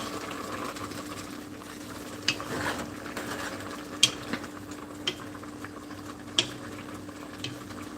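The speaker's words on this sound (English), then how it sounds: "let's stir it up now." Food is stirred in a pan over a steady low simmer, with several faint scrapes and clicks of the utensil against the pan at irregular intervals.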